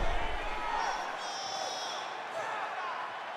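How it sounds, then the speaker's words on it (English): Arena crowd in the UFC 4 video game cheering steadily between rounds of an Adesanya vs Whittaker bout, a broad sustained roar with a commentator talking over it. "So the crowd voicing its appreciation after that round"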